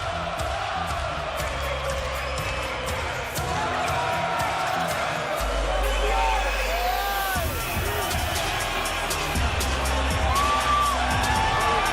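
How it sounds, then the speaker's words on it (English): Arena crowd cheers and roars loudly and steadily for middleweight boxer Gennady Golovkin at a title fight, with whoops rising above a continuous wall of noise and a commentator talking over it. "And the crowd responds to Triple G."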